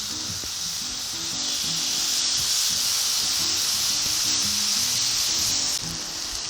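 Heart-shaped steaks sear on a Blackstone 28-inch Pro griddle just after being flipped, giving a steady, loud, close sizzle and hiss that runs on its own for the whole stretch, with faint scrapes of tongs.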